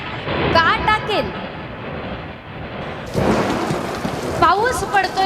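A heavy thunderstorm with steady pouring rain and deep thunder rumbles surges and swells throughout, with brief bits of voice sounding over the storm.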